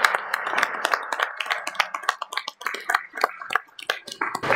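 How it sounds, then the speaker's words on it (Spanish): Audience applause for an engineer stepping up at an automotive electronics seminar, scattered claps from a modest crowd lasting several seconds, uneven and thinning out toward the end. "Por favor, un aplauso para él que va a llegar."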